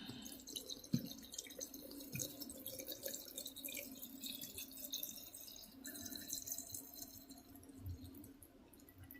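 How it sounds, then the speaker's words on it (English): Apple cider vinegar is poured into a sour jar, a faint trickle with small drips and splashes running unevenly for several seconds. "the last thing I'm going to add is the vinegar"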